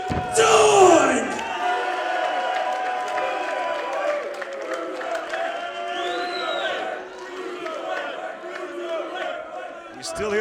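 A wrestling crowd in Galway roars and chants for Pete Dunne, loud and sustained, with a big yell at the start settling into a steady wall of crowd noise and cheering.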